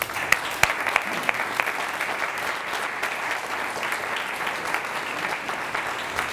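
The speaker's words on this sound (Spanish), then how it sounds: "Un aplauso, por favor." An audience at a book presentation claps for several seconds, the applause dense and steady with a few sharper claps standing out.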